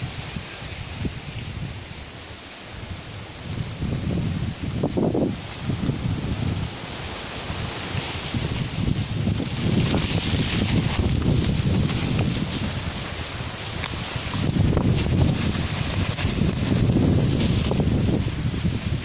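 Strong wind gusting through a garden with banana trees and plastic fencing, a steady loud roar that swells and eases in long waves, with no voices.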